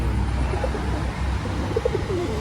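Pigeons at a loft make a few soft, throaty coos over a low background rumble, fairly close, with no talking.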